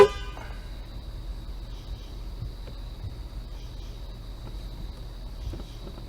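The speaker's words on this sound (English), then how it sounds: "You know what I'm gonna try? Honking the horn." A car horn sounds in a steady, faint tone that drags on at a distance against a quiet night-road background, with no voices heard.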